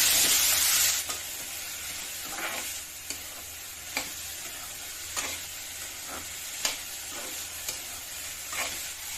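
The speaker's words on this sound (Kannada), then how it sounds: "ಕಾರ್ನ್ ತಗೋತೀನಿ ಹಾಕೊಂಡಿರ್ತೀನಿ ಫ್ರೈ ಮಾಡ್ಕೊಳ್ಳಿ" Corn kernels frying in ghee in a pan make a continuous close sizzle, loud at first and then settling, punctuated by periodic light scrapes and ticks from stirring.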